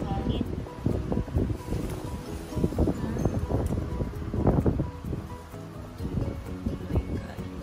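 Strong typhoon wind in Okinawa buffets the microphone in rough, gusty bursts, with a rustling roar that rises and falls throughout.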